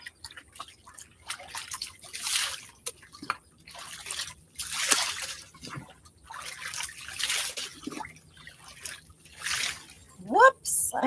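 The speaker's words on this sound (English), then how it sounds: "Rinse that off, just like that. Rinse me off again." Water rinsing red hair dye out of hair, with irregular trickling, splashing and dribbling bursts close by and a voice talking over it in places.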